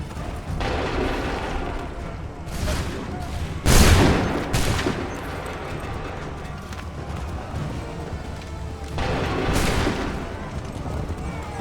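Musket volleys in Assassin's Creed 3, several sharp bursts of gunfire at irregular intervals with one especially loud crack, over a continuous battlefield din with horses and commotion in the background.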